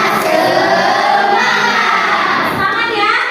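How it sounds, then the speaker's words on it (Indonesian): A classroom of students performs the 'tepuk semangat' clapping chant, a loud, dense wash of voices and claps that carries steadily through the whole moment. "Setelah boleh dipimpin, tepuk semangat."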